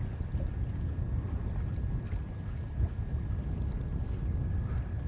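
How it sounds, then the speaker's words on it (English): Steady, roaring wind noise buffets the microphone aboard a fishing boat at sea during a cod fishing trip, with the wind around 15 mph, a constant low rumble filling the whole stretch with no talking. "Our wind's picking up as well, I don't know if you could tell."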